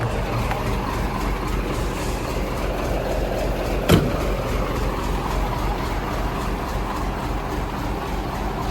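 A 2011 Hino FM 320 6x4 tractor head truck's diesel engine idles steadily, a low continuous rumble with one brief sharp knock midway, no talk over it.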